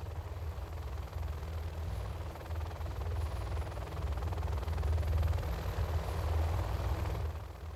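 In the Command & Conquer Generals Zero Hour video game, an aircraft makes a flyby as a continuous engine rumble that swells slightly toward the middle and then eases off, with no speech.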